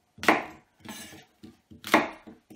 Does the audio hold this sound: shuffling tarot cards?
no